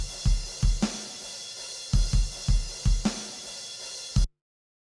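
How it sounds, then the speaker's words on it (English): A rock drum loop from a Focusrite drum pack plays in Logic, with punchy kick and snare hits in a steady repeating groove, clear and up front, cutting off abruptly at the end. "I've simply dragged in a drum loop that I like from the Focusrite drum pack"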